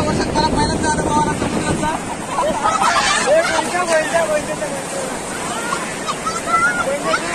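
Waves wash onto a sea shore in a continuous, fairly loud surf roar with wind buffeting the microphone, while people's voices chatter over it.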